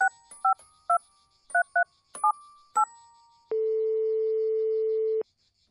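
A telephone number is dialed as a quick series of paired touch-tone beeps in an uneven rhythm, followed by a long steady tone, all loud and clear with no talking.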